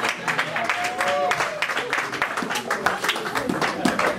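Congregation applauding in an evangelical revival church service, a dense, steady wash of many hands clapping throughout, with voices and a sustained tone rising briefly in the middle.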